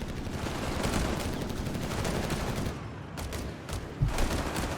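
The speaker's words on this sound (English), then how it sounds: "We only got really one squad of infantry busy shooting at the Allies there" Infantry gunfire in Company of Heroes 3, a dense crackle of rifle and machine-gun fire from a squad trading shots, sustained and fairly loud, with a heavier thump near the end.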